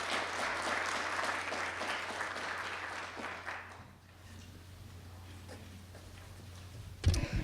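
Loud audience applause at an awards ceremony fills the first four seconds, then fades to quiet room tone with a sharp knock near the end.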